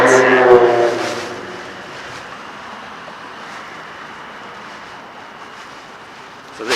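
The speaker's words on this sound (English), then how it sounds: "We're walking into the wind right now" Wind gusting across the microphone while walking downtown in Grand Rapids in spring, a constant broadband rush that is loudest at the start and then settles into a steady roar, with a brief voice at the opening.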